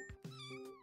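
Cartoon cat in the cozy video game Wholesome Cats gives a quick close meow, a short two-part mewing cry heard alone.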